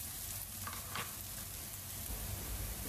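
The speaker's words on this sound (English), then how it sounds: "I will also be adding urid dal and that will also roast simultaneously along with our onions" Urad dal and onions roasting together in hot oil in a pan, giving a steady, close, continuous sizzle and crackle that stays even from start to finish, with no voices.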